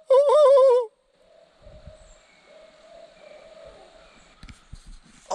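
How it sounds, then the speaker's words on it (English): An owl hoots in the evening at a fall campsite, a single clear, wavering call at the start followed by faint rustling and soft outdoor noise. "You hear that out? Owl's already out"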